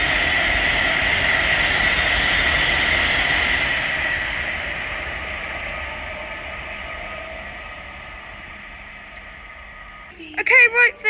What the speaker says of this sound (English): right down there is an Avanti West Coast Class 390 Pendolino, working service from London Euston